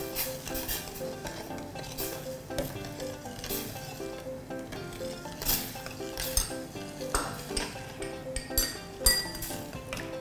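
Cornstarch being stirred into boiling water in a pot, with repeated clinks and scrapes of a utensil against the metal over a steady bubbling simmer, continuous and close.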